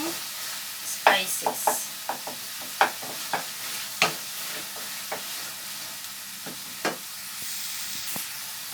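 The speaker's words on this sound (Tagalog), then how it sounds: "Mix lang natin ng maigi para maluto itong ating" Native chicken with spices being stirred in a frying pan, a steady sizzle broken by frequent scraping and clacking strokes of the utensil. A voice speaks softly now and then.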